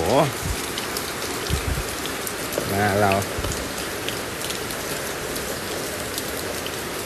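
Steady rain patters on surfaces throughout, with a person's voice briefly speaking and calling out over the downpour.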